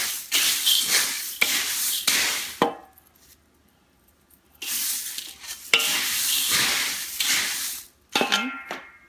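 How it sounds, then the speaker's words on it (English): Mamra puffed rice Chex mix being stirred in a pan, two bursts of dry rustling and scraping separated by a quiet pause, then a short final scrape, close and fairly loud with no talking. "I'm going to go ahead, stir it, and see what it looks like."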